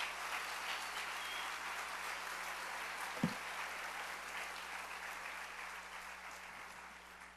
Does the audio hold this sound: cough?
no